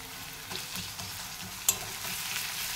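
Ginger paste and chopped onions fry in oil, making a soft, continuous sizzle with a few light stirring scrapes and one sharp utensil tap midway.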